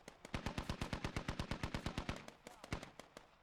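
In the Squad video game, a rapid burst of automatic gunfire lands as a rhythmic string of sharp, loud reports at an even pace, followed by a few slower trailing shots.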